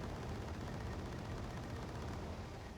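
Sustained combat noise from a BTR armored vehicle firing on a Flak Panzer in the Wargame Red Dragon multiplayer game, a dense continuous rumble of gunfire and battle sound at steady loudness throughout.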